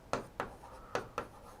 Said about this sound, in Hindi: मैं यहां पे एक बार लिख रहा हूं